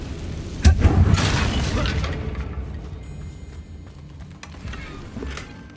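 Deep booming fire-spell explosion in the Hogwarts Legacy video game, a sudden loud blast followed by a long rumbling roar and crackling debris that slowly fades.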